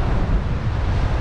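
Ocean surf at the seashore, a dense, loud wash of breaking waves heard close and mixed with wind buffeting the microphone, brief and without talk.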